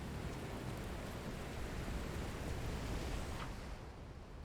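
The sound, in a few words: rain effect in a video game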